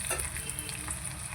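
Chopped tomatoes for Maggi noodles fry in oil with a steady, close sizzle and faint bubbling and no voices over it.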